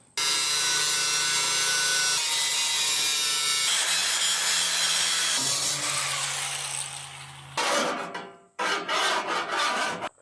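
A hand saw cuts steadily through the roll pan of a 1992 Chevy S10 truck, a close, continuous rasping grind for about seven seconds, then a few short harsh strokes after a brief pause.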